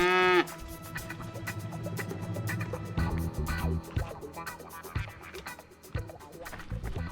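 Cow in a pasture giving one loud, close moo at the start, followed by a busy stretch of muffled knocks and thumps.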